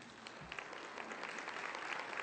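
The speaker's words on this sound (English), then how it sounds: "it's worth clapping for" An audience applauds at a lecture event at the Clinton School, a faint, distant patter of clapping that holds steady for a couple of seconds.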